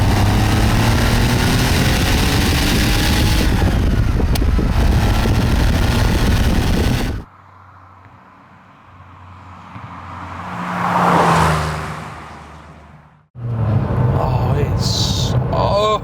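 Porsche 911 3.2 Carrera Club Sport rear engine pulling hard in second gear, a loud sustained roar for about seven seconds, then a quiet lull with a brief whoosh, before the loud engine returns.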